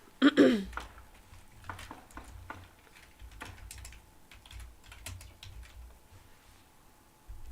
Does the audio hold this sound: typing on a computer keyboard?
yes